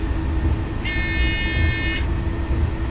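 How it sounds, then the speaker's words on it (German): Train horn sounding in Train Simulator 2020 on a Mannheim to Biblis run: a steady two-tone horn blast of about one second over a constant low rumble of the moving train. "Hier hupt's und klingelt's."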